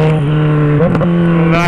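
Motorcycle with a straight-pipe exhaust revving loud and close, a steady engine drone that dips and rises again near the middle and surges at the end.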